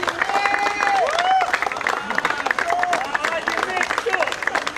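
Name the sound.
audience applause for team owners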